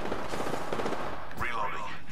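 Gunfire crackles in the video game Apex Legends, a burst of rapid shots up close followed by a sharp blast and a swooping electronic whine, all loud with in-game effects layered over it.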